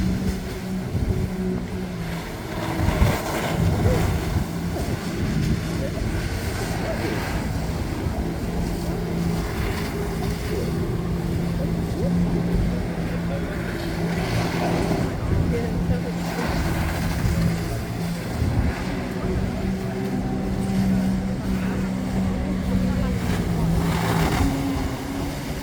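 A jet ski engine drones steadily on the water at a boat show, a continuous mid-distance motor hum with wind buffeting and people talking over it.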